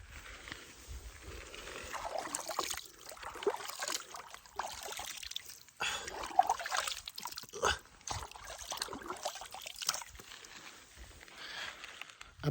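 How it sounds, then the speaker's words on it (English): Water ripples very quietly at the edge of Satpara Lake on the slopes of the Karakoram, with faint, irregular trickling and lapping over a hushed outdoor stillness, with no voices. "the very, very quiet ripple of the water"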